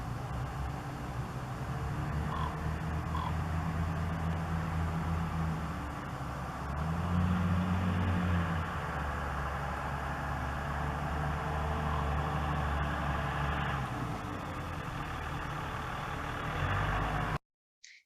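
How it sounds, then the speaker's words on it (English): Steady traffic on a city street in the background, a constant low rumble of passing vehicles and engines with one louder vehicle swelling briefly midway, heard at a distance and alone. "There was traffic going by all the time."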